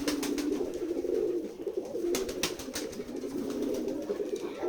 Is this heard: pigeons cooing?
yes